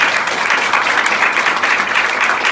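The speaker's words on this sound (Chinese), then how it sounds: "我们用掌声欢迎所有的朋友。" An audience at a business presentation meeting claps steadily in a dense, sustained round of applause that fills the room without breaks.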